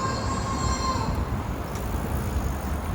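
A metro train rumbles past near an Amsterdam motorway, a steady loud roll with a faint wheel squeal fading early on, continuous for the whole stretch with no talk.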